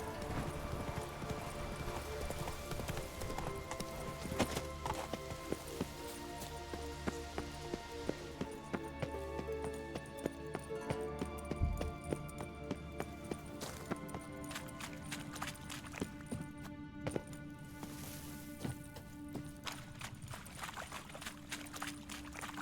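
Roach, the horse in The Witcher 3, gallops in a fast, steady clip-clop of hooves that runs throughout, with game music layered underneath and a brief voice heard at one point.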